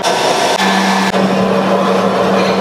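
A hot air popcorn popper roasting coffee beans with its lid on, giving a steady loud fan whir with a constant low hum that runs unbroken, apart from two tiny dips.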